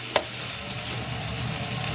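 Onion frying in oil and butter in a pan, a steady close sizzle with faint stirring clicks running continuously throughout.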